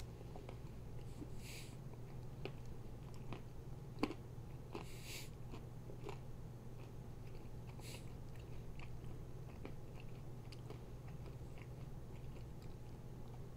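Someone chewing food close to the microphone, with soft irregular bites and crunches scattered over a low steady hum.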